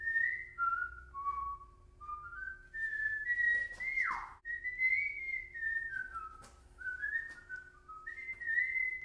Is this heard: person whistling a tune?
yes